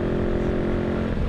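Motorcycle engine running steadily while being ridden on a cold day, a continuous loud close drone with a constant low hum and no talk.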